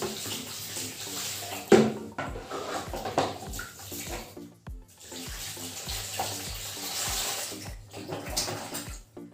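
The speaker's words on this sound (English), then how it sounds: "Then you have to rinse it with fresh water without powder soap." Fresh water runs and splashes over a steel surface being rinsed clean of powder soap during surface preparation for painting, a steady close-up wash with intermittent spatters and drips.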